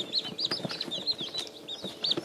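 Four two-day-old chickens cheep in a brooder, their high repeated peeps overlapping continuously over light scuffling, close and moderately loud.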